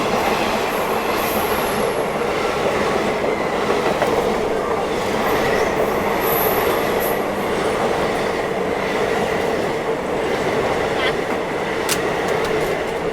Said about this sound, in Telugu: మన ట్రైన్ పెరంబూర్ డిపార్ట్ అయిపోయిందండి.